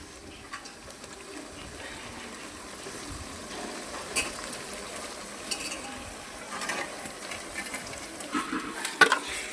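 Mutton being stirred through softened fried onions in a pan, a steady low sizzle with soft scraping and occasional louder clinks of the spoon, close and alone.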